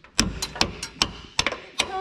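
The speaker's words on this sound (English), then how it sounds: "hit it with the hammer" A hammer strikes metal while fitting an engine mount for a 632ci big block into a GMT400 Chevy/GMC truck, landing about eight sharp, close blows at an irregular pace.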